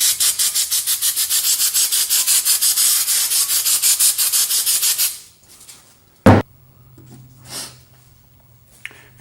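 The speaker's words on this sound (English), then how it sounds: "This gasket scraper is not doing what I was hoping it would do" A gasket scraper rasps repeatedly against old gasket material on a Jeep Liberty rear differential, giving about five seconds of steady, loud back-and-forth strokes, then a quieter stretch with a sharp knock and some faint clatter.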